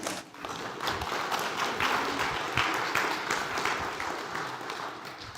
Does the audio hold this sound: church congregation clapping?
yes